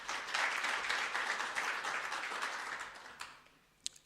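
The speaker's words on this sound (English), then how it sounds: "Let's give them a round of applause" An audience at a university research symposium in a senate hall claps in a dense, even wash of applause that gradually fades out, ending in a few isolated claps.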